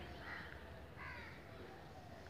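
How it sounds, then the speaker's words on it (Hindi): Crows caw in a lane of Mahatma Gandhi Nagar, Rajiv Nagar, in Patna: two faint, distant calls rise over a quiet outdoor hum. "ये कौवे जो हैं पहली बार यहाँ दिख रहा है।"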